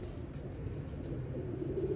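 A pigeon coos low and soft in a continuous murmur outdoors, the daughter of pigeon number 88, under a steady background rumble without talk.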